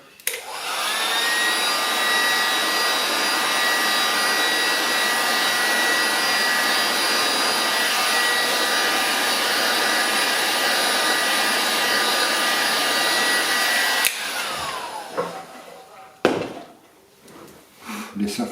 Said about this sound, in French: je vais simplement passer un peu avec le décapeur thermique